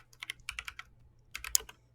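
Quick clusters of crisp keystrokes on a modified computer keyboard, close and fairly quiet, in two short bursts separated by a pause, with one sharper click among them.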